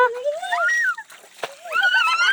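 Water splashes and sloshes at a drinking-water spring being cleaned, heard in bursts beneath people talking nearby.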